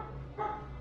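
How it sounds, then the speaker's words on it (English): A dog gives a single short bark from another room, faint and brief, over a steady low background hum. "Apologies for the dog, as always."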